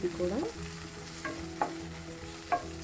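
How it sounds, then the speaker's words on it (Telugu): Tomato and onion lightly frying in a pan, with a steady soft sizzle under a few sharp utensil scrapes and clinks as the pieces are stirred, close and fairly quiet. "ఈ విధంగా కొంచెం లైట్గా వేయించుకొని మనం ఇది పేస్ట్ కింద చేసుకోవాలి"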